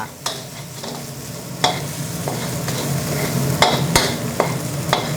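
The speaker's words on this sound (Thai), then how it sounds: "อันนี้จะผัดไฟแรงนะครับ มันก็จะมีติดกระทะแบบนี้แหละ" Steady sizzling from a hot aluminium wok over high heat with repeated scraping strokes of a spatula as jasmine rice is stir-fried with dark soy sauce, close and fairly loud, no voices.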